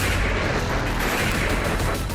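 Rapid gunfire aimed at unarmed people, a dense, continuous crackle of shots and blasts that fills the whole stretch loudly, with no gaps between reports.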